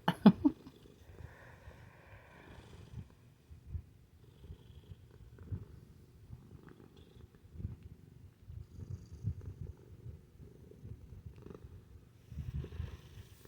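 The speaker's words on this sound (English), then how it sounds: "My apologies if you can hear my cat's motor going." A pet cat purrs steadily close by, a low continuous rumbling motor with soft pulsing swells, audible throughout under occasional quiet handling noises.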